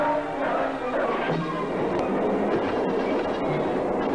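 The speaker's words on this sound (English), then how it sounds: "Locomotive chase starts all over again in the opposite direction." A steam locomotive from the 1926 silent comedy The General, heard as a steady rolling rumble and clatter of rail wheels during a chase, continuous and fairly loud.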